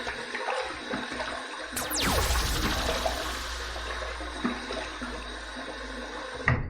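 Water runs and splashes at a bathroom sink while a face is wetted before shaving, with a sudden gush about midway that trickles on quietly to the end.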